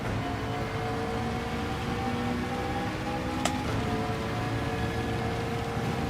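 Steady rain in Gran Turismo 7 during a race, a constant wash of hiss over a humming racing car engine, even in level throughout with one brief sharp click.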